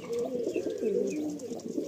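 Madrasi pigeons cooing in a close, continuous run of low, rolling coos with no talk over them.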